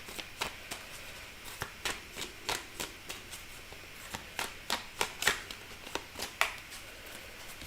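Tarot cards are shuffled close up in quick riffling bursts, a dozen or so crisp papery snaps in uneven rhythm against a quiet room.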